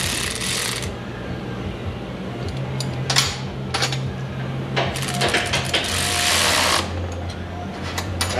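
A Pitman arm is worked off the steering box of a 2013 Dodge Ram 6.7 Cummins, with continuous close ratcheting and metallic clicking over a low mechanical hum, punctuated by a few sharp clanks and a longer burst of rapid ratchet strokes.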